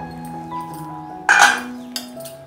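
A metal pot lid lifted off a pot of cooking potato kuzhambu gives a bright clinking scrape, then a softer clink, over steady kitchen hum and faint tonal background.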